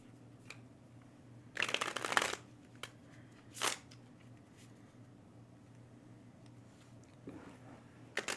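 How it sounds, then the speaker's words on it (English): A deck of Magic: The Gathering cards is shuffled in a few quick riffling bursts, close and soft, separated by quiet pauses at a casual tabletop game. "Put them into my hand before I shuffle."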